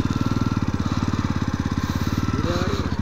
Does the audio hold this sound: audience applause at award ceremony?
no